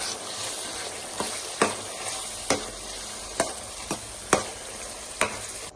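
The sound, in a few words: stirring ground masala frying in a pan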